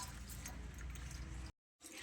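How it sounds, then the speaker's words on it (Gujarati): Water sloshes and swishes steadily as lentils and rice are rinsed together by hand, then cuts to a brief silence before resuming. "બંનેને સરસ મિક્સ કરી બેથી ત્રણ પાણીથી ધોઈ લઈશું"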